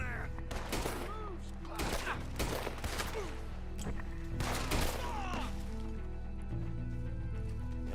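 Gunfire in the video game Red Dead Redemption 2, a rapid series of loud, close shots cracking at irregular intervals over a continuous bed of game music, with occasional voices mixed in.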